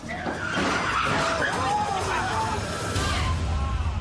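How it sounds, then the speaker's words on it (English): A beige car skids and crashes into a sign at the end of a dangerous police chase; a broad scraping, screeching rush fills the moment, with a voice talking over it. "when the beige car drives into a sign"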